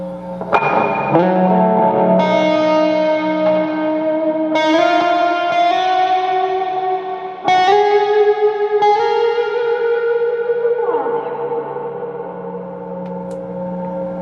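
Electric guitar through a Lekato Tank G amp modeler plays sustained distorted chords and notes, drenched in reverb and echo, each strum ringing out and blending into a long wash.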